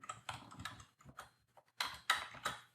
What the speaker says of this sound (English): And I'll type in a caption here